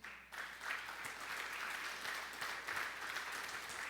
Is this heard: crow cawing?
no